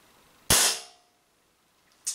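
An ASG Dan Wesson 715 air pistol, 2.5-inch version, firing a .177 pellet: one sharp, loud, close crack that decays over about half a second, followed by a short click near the end.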